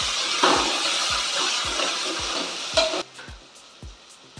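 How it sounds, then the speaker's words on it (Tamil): Onion and tomato sautéing in a pan for a pea kurma, a soft sizzle under regular scraping strokes of a spoon that tick along steadily, the frying hiss dropping away in the last second as the stirring taps continue alone. "அப்படியே வதக்கணும்"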